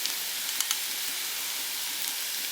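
Beaten eggs poured into the middle of a hot pan beside raw banana pieces pushed aside, giving a steady, soft, even sizzle with a couple of faint clicks.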